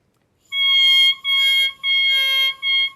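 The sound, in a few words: oboe double reed blown alone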